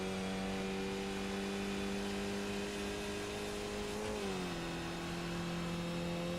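Skip Barber race car engine in a racing video game at VIR Grand West, droning steadily at high revs with a brief dip in pitch as it shifts or lifts, then holding a lower steady note, loud and continuous.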